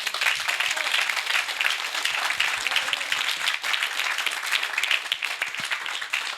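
Audience at the AMFIS 2023 conference applauds in a steady, even round of many hands clapping, moderately loud and sustained for several seconds, with no voices over it.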